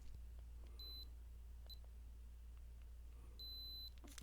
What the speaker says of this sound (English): So I know it's beeping